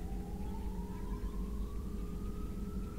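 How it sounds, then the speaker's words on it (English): A siren wails steadily in the background, its tone slowly rising, faint and distant under a constant low rumble. "I'm not even gonna comment about that siren in the background"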